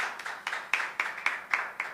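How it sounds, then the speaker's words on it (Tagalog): A small group claims for Jesus Christ during a sermon, about eight crisp, evenly spaced claps in a steady rhythm, close and moderately quiet, with no voices over them. "Papuring palakpak para sa mahal na Jesucristo."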